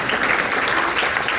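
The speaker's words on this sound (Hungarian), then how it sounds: "Na, megérdemel egy tapsot, nem?" A live audience at a folk dance-house gathering claps in a brief, dense burst of applause, steady and fairly loud throughout.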